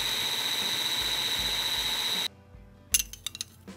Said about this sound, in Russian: Снова измельчаем все до кашеобразного состояния.